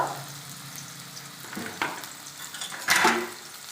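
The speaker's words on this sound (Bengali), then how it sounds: "লবণ দিয়ে ভালো করে ভেজে নেব।" Potato pieces sizzle in a hot pan with salt. Steady frying hiss comes up close, broken by a few stirring scrapes and a sharp louder burst near the end.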